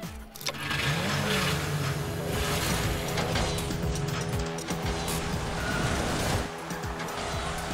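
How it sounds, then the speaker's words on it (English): Engine roar and tyre squeal from Rocket Cars, an iOS racing game by Illusion Labs, with revving motors, skids and mechanical clunks running continuously at high level throughout. "there's a new racing game that's come out on iPhones and iPads. It's called Rocket Cars"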